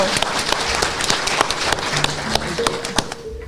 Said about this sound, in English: Give yourselves a round of applause for coming out with us.